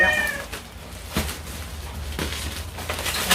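A house cat meows several times at moderate distance, the cries rising over a noisy indoor background of rustling and handling.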